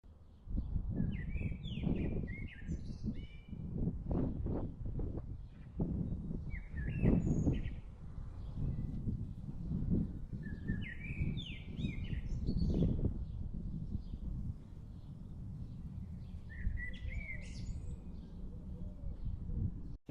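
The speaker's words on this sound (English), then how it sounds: "All we really need is some wind noises and some bird noises." Birds chirp and sing in scattered short bursts over a steady low rush of wind, an outdoor ambience with no voices.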